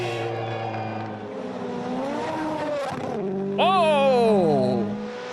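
A Toyota WRC rally car at speed in a forest stage in Finland, its engine note rising and falling through gear changes, with a sharp high rev near the end and a voice talking over it.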